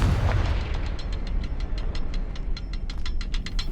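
Spell-blast explosions and bursts from a fire spell in the Hogwarts Legacy video game, a dense rumbling barrage with rapid crackling pops repeating steadily throughout.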